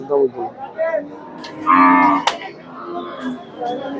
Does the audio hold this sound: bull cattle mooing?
yes